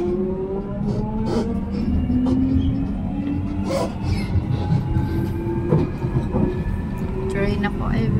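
Train rolling past close by, a rumbling roar with repeated clanks and wheel squeals over the rails, while a person talks faintly near the start.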